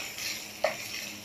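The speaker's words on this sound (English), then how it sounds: "I stir them together and lower the heat." Pasta and green pepper being stirred in a pan over lowered heat, a soft steady sizzle with one brief scraping clink of the spoon midway, close and quiet.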